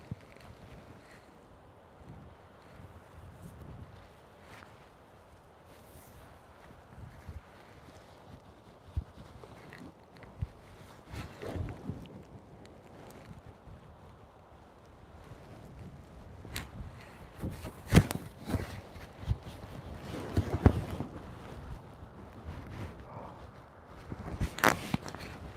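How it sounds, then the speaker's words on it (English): Cold wind blowing through the deer woods, a steady low rush with gusts and buffeting on the microphone, growing rougher and louder toward the end, with no talking. "that wind is getting cold"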